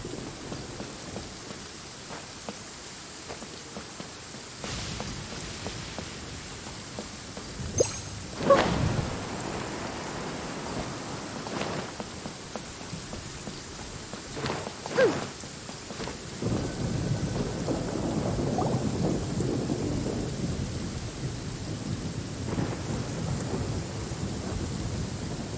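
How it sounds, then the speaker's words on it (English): Steady rain pours in Genshin Impact, with several rumbles of thunder rolling in, some sharper cracks near the middle, and the downpour swelling louder toward the end. "Rain! I hate rain."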